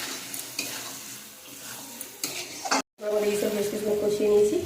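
Jackfruit fries and sizzles in spices in a pan while a utensil stirs it with scraping and clinking. A short dropout is followed by a louder, steady sizzle with a faint tonal hum in the background.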